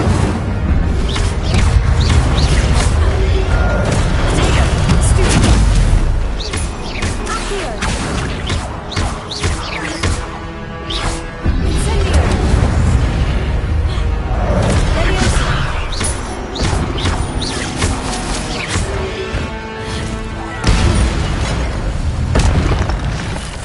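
Fire spells going off in Hogwarts Legacy, with loud continuous booming blasts and whooshing crashes mixed with game music and dense combat effects, a voice shouting spell names over them.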